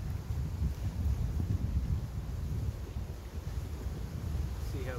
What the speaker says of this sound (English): I just realized it's really windy